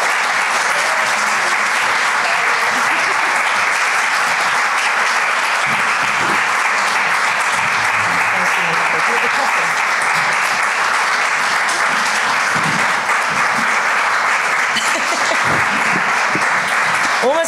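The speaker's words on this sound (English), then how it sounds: "Let's just give a round of applause again" Sustained applause with cheering from a large audience at a games industry summit, a dense, steady roar of clapping that fills the whole stretch without a break.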